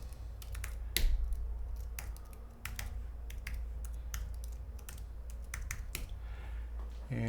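Someone types a command on a computer keyboard at a Red Hat Linux system: a quick run of sharp, uneven key clicks, close and distinct, over a low steady hum.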